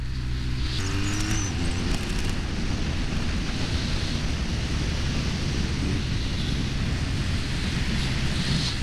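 A motorcycle engine drones steadily at low revs, pulling hard in a low gear with a deep, rumbling tone and constant wind noise.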